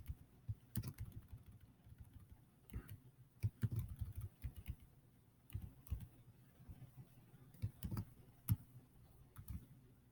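Computer keyboard being typed on for drawing shortcuts in a slides editor, scattered quiet clicks and key taps in irregular bursts, close and soft against a near-silent background.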